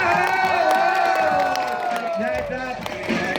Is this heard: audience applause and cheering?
yes